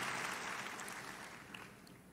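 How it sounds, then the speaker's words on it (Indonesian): A church congregation applauds together, a dense, even wash of clapping that fades slightly over a couple of seconds, with no voices over it. "Berikan tepuk tangan kita untuk Tuhan kita."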